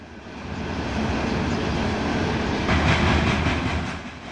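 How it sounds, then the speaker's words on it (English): A loaded coal freight train rolls past on mountain track at Glenwood Springs, Colorado, a loud continuous rumble of heavy cars with wheel clatter swelling and fading, with no voices. "a coal train moving through Glenwood Springs, Colorado."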